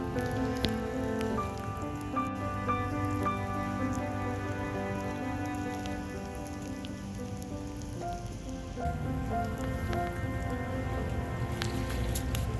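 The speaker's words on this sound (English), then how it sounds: "The rain's starting to slow down" Steady rain patters outdoors on surfaces, a dense continuous hiss of drops with scattered louder taps, close and even throughout with no talking.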